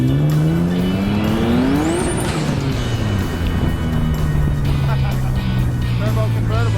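A turbocharged S52-engined 1988 BMW E30 convertible built by K&B Autoworks is driven hard, the engine revving up loudly with squealing tires and sliding, while a person talks over the noise.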